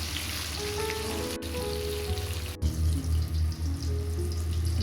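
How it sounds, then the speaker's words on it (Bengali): Fish fries in hot oil with a continuous hissing sizzle and bursts of bubbling crackle that grow louder and more uneven toward the end, with no talking. "তেল গরম হয়ে গেছে, এবার মাছটা আমি ভেজে নিচ্ছি।"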